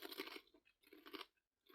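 Crunching and chewing on a biscuits-and-gravy flavored potato chip, close and quiet, in two bursts of crisp bites with a short pause between them.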